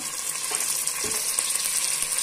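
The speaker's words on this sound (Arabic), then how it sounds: "افضل اقلب لحد ما تحمر" Meat frying in oil with a spoonful of minced garlic, being stirred. A steady, loud sizzle runs throughout with faint scrapes of the spoon, close by, and no talk.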